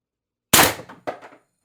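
A single sharp shot from an Umarex TR50 HPA air rifle with an expansion stock, a sudden crack out of silence followed by a quick metallic clank and short rattling tail.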